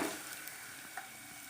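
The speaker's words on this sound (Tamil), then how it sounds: "தேங்காய் பாருங்கள், நல்லா பொன்னிறமாக ஓரளவுக்கு வறுத்து எடுத்துக்கணுங்க." Grated coconut frying in coconut oil, a soft, faint continuous sizzle with light stirring scrapes, brief and without talk.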